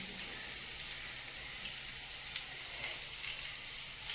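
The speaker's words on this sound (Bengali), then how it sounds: "কুঁদরিটা ভেজে নাও" Ivy gourd (kundri) frying in a pan gives a steady, faint hiss of sizzling oil with a few soft crackles and pops, continuous and even throughout.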